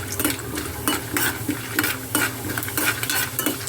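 Chana dal and urad dal sizzle in hot oil while a spoon stirs and scrapes the pan in steady repeated strokes, close and fairly loud, with no voices.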